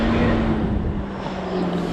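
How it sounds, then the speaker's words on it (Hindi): A freshly overhauled Volkswagen Vento petrol engine idles smoothly and steadily at close range, a low even drone with a faint whine on top, and no talking. "तो करते हैं इंजन को स्टार्ट।"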